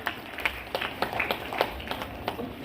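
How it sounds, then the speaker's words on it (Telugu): Light, scattered applause from an audience at a Christmas celebration in an RCM church in Kanchikacherla, sounding thin and somewhat distant for a couple of seconds. "చప్పట్లు కొట్టడం సార్ వాళ్ళందరికీ."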